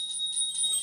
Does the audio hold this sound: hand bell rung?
yes